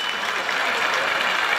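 Applause at the 70th anniversary ceremony of Xishi Elementary School in Changhua: a hall full of people clapping together in a steady, dense wash of sound with no pauses.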